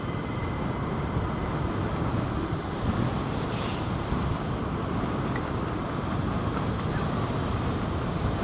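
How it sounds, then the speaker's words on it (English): Strong wind blows across RAF Lakenheath airbase, making a continuous heavy roar and microphone buffeting throughout with no let-up. No one speaks. "Mycroft Holmes, today's the windiest I've heard it at Lakenheath"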